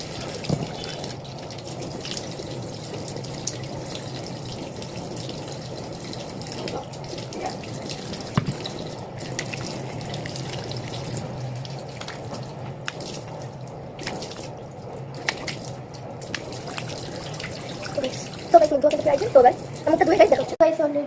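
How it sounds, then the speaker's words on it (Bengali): A tap runs steadily into a sink while someone washes their face after brushing their teeth, a continuous close splashing flow with a few drips and louder splashes near the end. "এখানে কিন্তু আমার ব্রাশ করা হয়ে গেছে, এখন মুখটা ধুইবো।"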